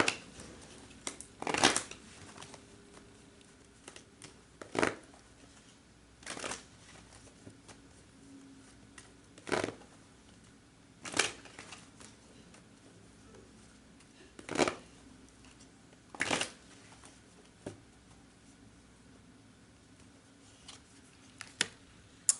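Tarot cards are shuffled in repeated short riffling bursts, about a dozen quiet rustles spaced a second or two apart over a calm, near-silent room.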